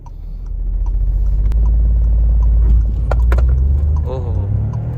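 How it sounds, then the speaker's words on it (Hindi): A Volkswagen Taigun 1L Highline Plus with traction control off, manual mode, accelerates hard from 0 to 100 km/h; steady loud engine drone rising and holding under occasional cabin talk and small rattles. "गाड़ी का 0 to 100 करते हैं"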